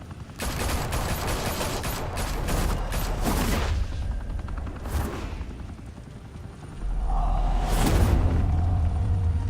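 Gunfire from a Batman game's Gotham shootout: dense bursts of rapid shots and fusillades, then a pause, before another loud volley returns with a low rumbling undertone.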